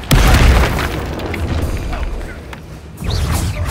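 A fire spell cast in combat in Hogwarts Legacy, a heavy booming whoosh of flame opening loudly and rumbling on, with a second burst near the end and faint voices underneath.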